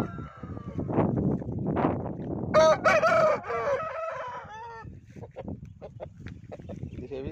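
A heavy standard-breed rooster on a farm crows loudly once from close range, surrounded by softer clucks and other fowl noises.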